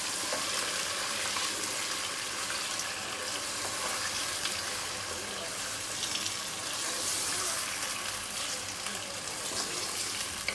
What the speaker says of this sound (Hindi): यहाँ पर मैं इसे अच्छे तरीके से फ्राई कर रही हूँ।